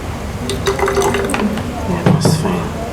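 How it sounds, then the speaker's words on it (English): Water poured into a spray bottle while mixing a natural lice remedy with London dry gin, a short gurgling fill with a clink, partly under a voice talking. "So I will just add some more water."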